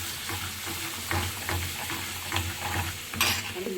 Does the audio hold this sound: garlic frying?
yes